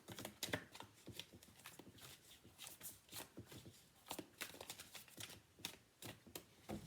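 Rapid, crisp riffling and tapping of tarot cards being shuffled close by, in irregular bursts, quiet overall.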